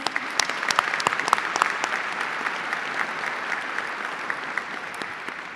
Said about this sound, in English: Can you help me give these trustees a round of applause, please?